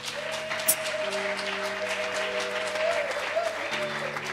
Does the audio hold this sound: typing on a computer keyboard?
no